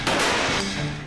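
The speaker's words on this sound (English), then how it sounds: "and the dreaded Slushy out of their air cannon." A single loud blast from an air cannon firing a slushy projectile on a test track, a sharp burst that decays over about a second with no voices.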